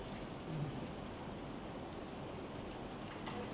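Steady rain falls without a break, a soft even wash of broadband patter near and constant, with no voices.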